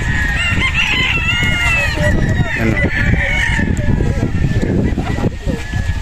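Chickens and roosters at a Philippine gamefarm range area, several birds crowing and clucking close by in a busy flock, with someone talking over them throughout.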